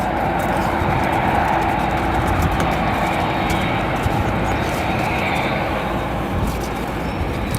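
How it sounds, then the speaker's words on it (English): A Japan Airlines Boeing 787 departing O'Hare gives off a loud, steady engine roar that holds constant throughout, with faint clicks and rustles over it. "our head-on shot of the Japan Airlines 787. Should be a nice and loud departure here for you guys."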